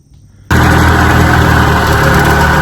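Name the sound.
1957 18 HP Evinrude outboard motor starting and running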